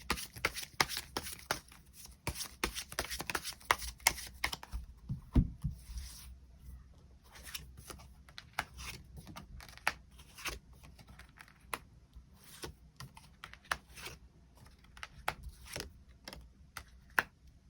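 Tarot cards shuffled and drawn by hand, a steady stream of close, crisp riffles and flicks, briefly quieter mid-way before sharp card snaps and shuffling resume to the end.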